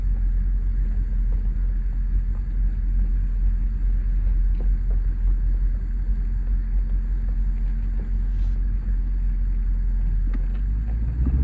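A 2021 Camaro SS 1LE's engine, rebuilt after a wreck, gives a heavy, steady, close-up low rumble that holds at an even level throughout with no clear rev swells.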